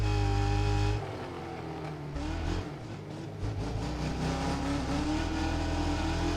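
Race car engines in the video game Wreckfest 2 drone loudly and continuously, with the throttle feathered on a downhill, so the revs dip and swell in steady harmonic tones.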